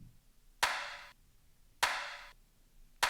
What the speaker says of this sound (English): you get kind of like a modified clap